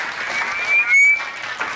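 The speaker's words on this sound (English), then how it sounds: "Big round of applause" Audience applause at a dentistry awards event, a continuous wash of clapping with a brief high whistle rising out of it midway.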